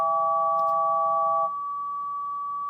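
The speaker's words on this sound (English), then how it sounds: "That's the sound of the Lightfoot as a wavelength converted to hertz, to a frequency." Pure sine tone set to a Lightfoot wavelength converted to hertz, steady and moderately quiet, with a second close tone dropping out halfway so a single held pitch remains.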